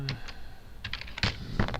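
Keys clack in short bursts on a keyboard beside a RIDGID SeeSnake CS10 digital recording monitor, a few quick taps spaced across a couple of seconds, close and fairly quiet.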